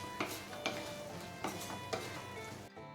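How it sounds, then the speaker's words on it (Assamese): Ingredients with green chillies being stirred in a cooking pot on a home kitchen stove, with steady sizzling underneath and four distinct scraping strokes of a spoon against the pot, ending in a sudden cutoff. "এয়া মই গোটেইখিনি ভালদৰে লৰাই দিছোঁ।"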